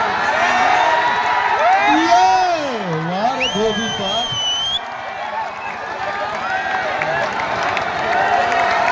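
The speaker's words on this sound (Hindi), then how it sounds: "जोरदार तालियों से सम्मान करिए पहलवानों का" A crowd at a village wrestling match claps and cheers for the wrestlers, a steady wash of applause mixed with loud shouts and whoops from the audience.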